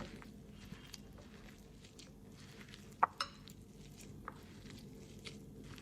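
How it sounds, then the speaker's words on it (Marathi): Sweet corn cutlet mixture being mixed by hand in a bowl with spices, coriander and salt, giving soft, wet squishing and patting sounds close by, with a couple of sharper taps against the dish. "आता हे मिश्रण आपण मिक्स करून घेऊया"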